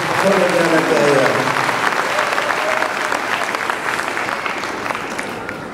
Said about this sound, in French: Et on les applaudit s'il vous plaît parce qu'on est bien à l'intérieur.